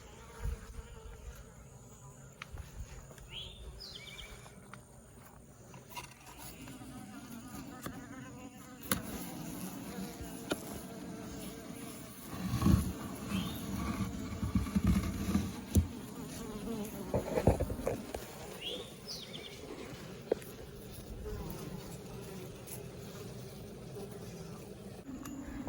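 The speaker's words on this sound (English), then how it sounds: "And inside you can see the bees hard at work." Honeybees drone steadily inside a beehive, a dense close buzzing that continues throughout with occasional louder swells and faint handling noises, and no one talks over it.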